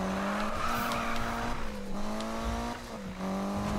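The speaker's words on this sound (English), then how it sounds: "Pretty much just sounds like an EVO." Mitsubishi Evo 9 engine in the racing game Need for Speed 2015, a steady droning rev with slight pitch shifts and a brief dip, moderately loud with no talk.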